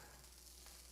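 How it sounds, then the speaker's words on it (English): Chicken sizzles steadily while frying in a pan, a continuous soft hiss with faint crackle throughout, heard close and fairly quiet with no talking. "Yeah, that's sizzling. You guys hear that?"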